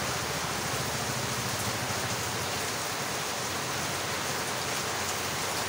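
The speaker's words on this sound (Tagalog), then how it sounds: "Lakas talaga ng ulan." Heavy rain pours steadily at a carwash, a dense, even roar of falling water hitting surfaces that holds at the same level throughout with no voices.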